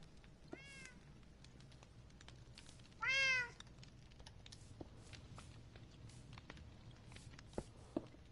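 A cat meows twice, a short meow followed by a louder, drawn-out one a few seconds later, amid faint soft footsteps and quiet room noise, with no one talking.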